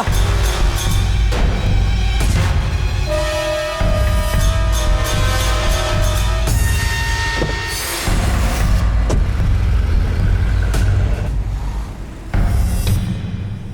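A road vehicle drives steadily along a country road toward Krishnapuram village, its engine and tire rumble loud and continuous throughout, with a few brief dips and some tonal whine.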